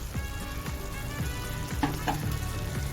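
Boiled pasta is stirred into sautéed carrots and vegetables in a hot karahi, giving a steady sizzle with close scraping and clinking of a spoon against the pan.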